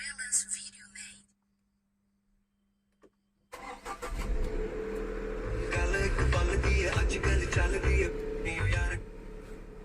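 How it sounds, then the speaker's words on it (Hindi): A car engine cranks and starts after a brief silence, then settles into a steady, loud idle that carries through to the end, with a short faint sound near the start before the quiet gap. "गाड़ी का इग्निशन पहले ऑन करना है मुझे।"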